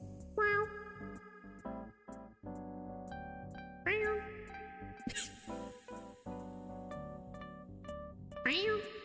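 A person imitates the Minecraft cat meow with their voice, in a string of short, tonal, warbling mews and chirps between bits of quiet, close-up, soft sounds.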